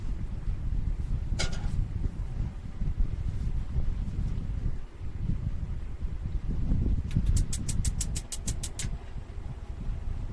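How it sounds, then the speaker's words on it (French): Continuous low rumbling wind buffets the microphone outdoors on a mountaintop at Tà Xùa, Vietnam, with a rapid series of light clicks partway through. "C'est vrai que là, il y a beaucoup de vent."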